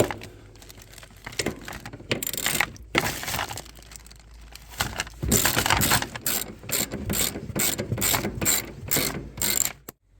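Rusty seat bolts inside a Ford Edge are worked loose with a ratchet, giving bursts of rapid clicking pawl sounds and metallic scraping at close range, alone without talk.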